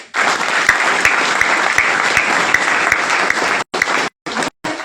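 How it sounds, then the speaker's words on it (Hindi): Loud, sustained audience applause at an RCM business gathering in Gwalior, a thick wash of clapping with a few sharper claps standing out, breaking into short gaps near the end. "जोरदार ताली"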